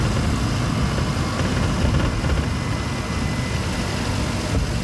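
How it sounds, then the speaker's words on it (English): A big General Motors V8 engine idles with a deep, steady rumble, loud and close, with no voices. "big General Motors V8s. You have to love it. That's a big grumbling sound."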